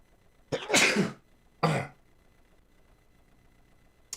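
Two coughs from a sound effect button sound close up, the first longer and rougher, the second short, followed by quiet.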